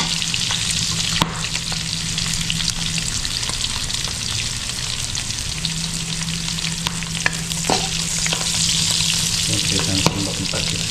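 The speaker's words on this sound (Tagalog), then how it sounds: "Nakapulo na yung baboy, tapos titirito lang natin siya ng konti." Pork sautés in a pan with a loud, unbroken sizzle and crackle, joined by occasional clicks and scrapes of a stirring utensil, lasting without pause and with no voices.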